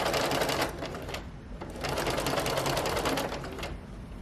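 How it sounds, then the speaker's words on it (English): Sewing machine stitching a rolled hem, a fast close mechanical whirring rattle running in two bursts with a brief slowdown between. "now you should be able to just sew normally"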